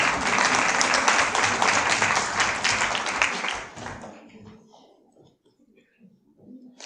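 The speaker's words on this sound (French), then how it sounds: "Ah oui, applaudissez-la, Marinette." An audience at a lecture in Toulouse applauds for Marinette with a burst of loud clapping for several seconds, then it stops abruptly, leaving near quiet with faint stray sounds.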